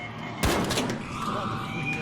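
Gunfire in the video game Arc Raiders, a single sharp loud shot followed by a brief rumbling tail over a steady game background.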